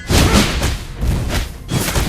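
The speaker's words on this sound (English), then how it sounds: "Your team destroyed a turret." A turret being destroyed in Mobile Legends: Bang Bang gives a few heavy, booming thuds with whooshing tails, loud and close and heard alone.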